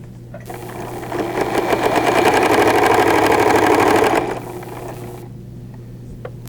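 A domestic sewing machine stitches through pinned fabric, its motor whirring in a steady, loud run of about three seconds that rises then stops, with quiet room hum before and after.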